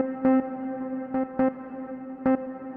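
A heavily processed tone from the Eventide Blackhole reverb app on an iPad, with its gravity control engaged, holds steady and rings on. Four short, bright pulses hit at irregular intervals over the sustained, droning tail.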